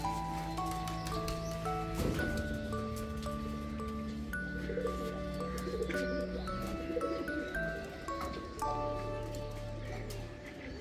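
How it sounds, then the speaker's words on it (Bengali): Pigeons coo at a Jagannath temple in Dibrugarh, with soft repeated calls carrying through a steady wash of temple ambience and sustained tones, nearby and moderately loud, with no talk. "পায়রাগুলো ডাকছে তো ওইগুলোকেই দেখছে"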